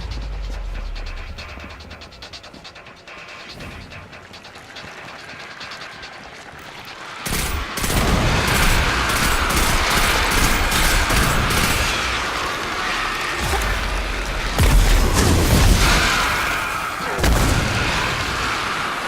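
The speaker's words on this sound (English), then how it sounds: "Grenade and then punch. Mixed in with a few bullets." Combat in the video game Destiny 2 against the Hive: a quiet stretch, then a booming grenade blast, followed by heavy rolling impacts, a melee punch and bursts of gunfire, loud and dense.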